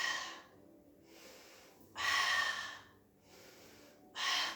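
Three or four slow, deliberate breaths during a pilates exercise, with airy exhales that alternate with quieter gaps and rise to strong bursts, close and alone.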